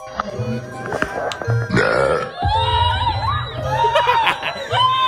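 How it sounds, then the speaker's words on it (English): A loud, drawn-out burp rumbles up amid a noisy crowd, with shrieks and laughter around it. "the women are terrified when they hear the strange and horrifying sound of a loud burp"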